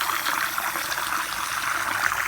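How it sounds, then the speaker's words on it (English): Fresh water trickles steadily from a backyard finch aviary water feature, overflowing into a basin, a close, continuous bright babbling with no voices. "And that'll just run for a few minutes, a couple of times a day, just to keep fresh water running."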